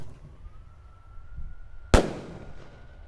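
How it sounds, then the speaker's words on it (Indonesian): An Elang Mas firecracker is lit and launched: a faint thin whistle rises, then a single sharp, loud bang bursts out and crackles away into a fading tail. "kita nyalakan mercon yang bledosnya dua kali ya, di bawah dan di atas. Ini ada mercon elang mas."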